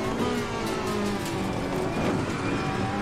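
A race car in a sim-racing video game runs flat out and brakes into a corner, a constant loud engine drone with a slight dip and shift in pitch as speed scrubs off.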